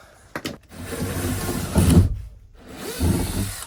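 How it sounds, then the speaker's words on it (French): A power drill boring a hole, with short bursts of a whirring motor grinding through material, separated by pauses, close and fairly loud. "Là, je vais percer"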